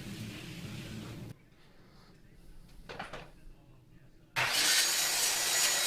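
A handsaw cuts a 1/2 inch MDF board to rough size in a workshop, with loud steady rasping strokes at the start and again at the end, separated by a quieter stretch with a few knocks and scrapes.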